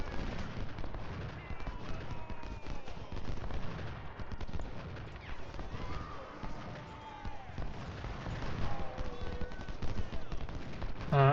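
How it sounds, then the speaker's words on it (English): Musket volleys crackle in a Civil War battle in the strategy game Ultimate General: Civil War, dense overlapping gunshots rattling continuously with booming low rumble beneath, moderately loud with no talk. "Hopefully they will break on this volley."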